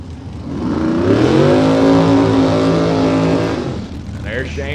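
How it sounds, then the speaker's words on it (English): Nitrous-equipped first-generation Camaro drag car launching in an X275 small-tire drag race, a loud rising engine howl that holds for several seconds and then fades away, with faint announcer chatter near the end. "LaWayne Brown over the left-hand side of the nitrous first gen Camaro"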